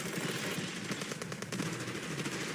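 Dense, rapid machine-gun and rifle fire from the video game Path to Nowhere, sustained and loud throughout as continuous covering fire with crackling bursts and no talk.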